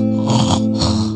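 A voice imitates snoring during a Sunday school story: two drawn-out, throaty snore-like breaths, close and loud, with no other sound.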